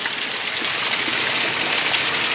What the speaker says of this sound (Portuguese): a chuva tá descendo bom demais